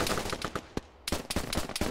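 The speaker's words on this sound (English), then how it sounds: "When you see they're shooting with pistols" Pistol gunfire in a competitive video game match, a rapid series of sharp close shots with a short pause partway through, loud and without talk.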